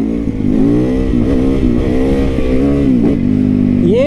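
A motorcycle engine revving hard and steadily while doing wheelies, close and loud, its pitch rising and falling with throttle changes and climbing sharply at the end.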